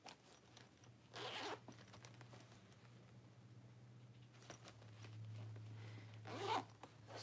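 A zipper on a designer bag pocket is pulled in two quick close runs, several seconds apart, over a low steady hum and faint handling rustle.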